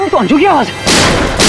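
Someone speaks briefly, then a loud, sudden gunshot bursts out and rings into a sustained crashing roar.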